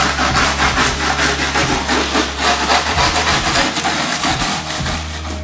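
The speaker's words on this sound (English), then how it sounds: "after preparing the surface, sanding it and roughing it up" A surface is sanded and roughed up before a ring installation, a loud, steady, close rasping scrub in rapid back-and-forth strokes over a low hum, with no talking.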